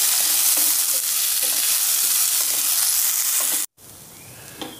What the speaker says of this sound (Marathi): खजूर छान याला तुपामध्ये भाजून घेऊ, म्हणजे खजूर नरम होईल